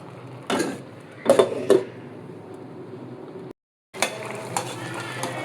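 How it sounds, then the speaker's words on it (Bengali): A metal lid clanks a few times as it is set down on a cooking pot of Malabar spinach and lentils, brief close knocks with a quiet gap before a low hum resumes. "এখন আমি আবার ঢাকনা দিয়ে ঢেকে দিব"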